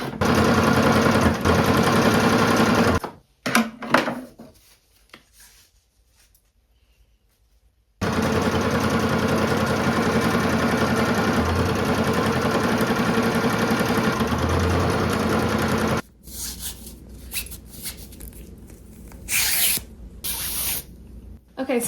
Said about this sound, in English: now we can go ahead and do a straight stitch down this side and a straight stitch down this side